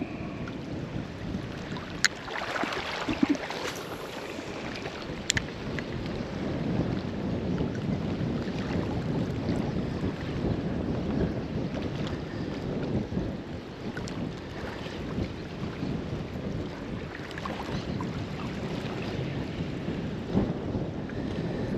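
Wind blows over a lagoon during fishing, a continuous buffeting roar across the microphone with occasional gusts and faint splashes, steady throughout with no talking.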